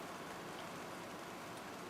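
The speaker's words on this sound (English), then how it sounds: "would you believe it? Now it's going to rain." Steady outdoor rain, a soft continuous hiss of drops on surfaces, fairly faint and even throughout with no voices.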